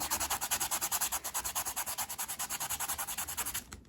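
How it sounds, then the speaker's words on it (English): A small handheld Dollar Tree sander removes paint from a card, giving a fast, steady rasping buzz with even pulses that runs close and continuous for several seconds before stopping abruptly. "you just take sander, this from Dollar Tree, And you can just sand those off very easy."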